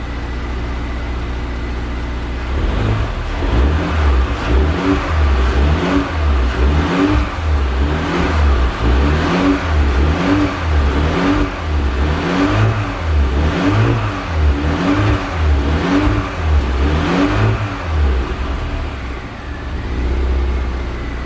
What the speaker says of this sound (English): Engine sounds sweet, up to temperature.